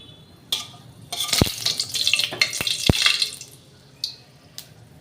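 Bay leaf, dried chilli, cinnamon, cardamom and cloves frying in hot oil in a pan for dalna, with a steady sizzle broken by a few sharp crackles and pops and light stirring scrapes.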